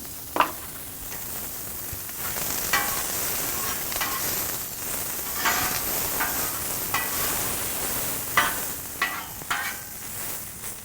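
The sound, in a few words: brown onions frying in oil on Blackstone griddle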